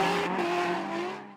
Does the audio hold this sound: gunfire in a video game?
no